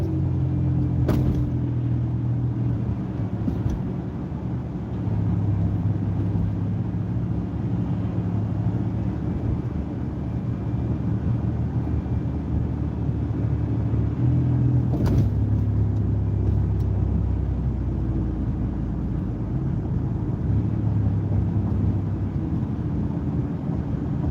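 A car at steady cruising speed in fourth gear during a beginner driving lesson, with a continuous low engine and road rumble throughout, a couple of brief knocks, no talking.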